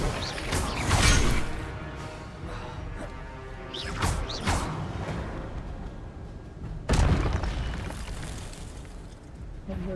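Incendio fire spells are cast in Hogwarts Legacy as three separate booming, crackling bursts spaced a few seconds apart, each a sharp whoosh-and-crash that trails off into a low rumble.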